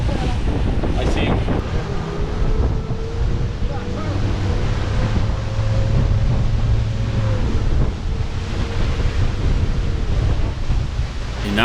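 A boat runs slowly over choppy water near Sanibel Beach in Florida, with a steady roar of engine, wind buffeting the microphone and waves slapping the hull, continuous and loud throughout.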